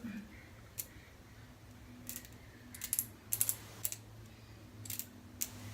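Crisp, quiet clicks from the adjustment dial of a Gillette Fat Boy safety razor in excellent condition, arriving as scattered single clicks and short clusters over a low steady background hum.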